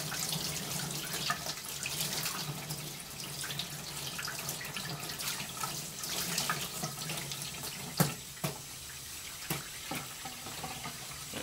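Running tap water streams steadily as a brush is rinsed under the faucet, a soft continuous splash with a few sharper knocks near the end, no voices.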